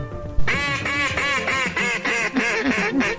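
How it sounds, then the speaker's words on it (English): A mallard duck calls with a run of about eight loud, evenly spaced nasal quacks, close and clear with no talking. "listening to the duck calls wailing in the fall air"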